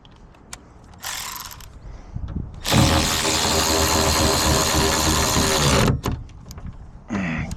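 A ratchet tightens a part on a trailer brake module during recall work on a newer Dodge truck, giving one loud, dense burst of clicking of about three seconds. Quieter mechanical handling comes before and after it.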